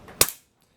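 A PCP air rifle fires a single sharp, close crack as it bursts a biodegradable paintball, the impact snapping out loud and quickly fading with no one talking.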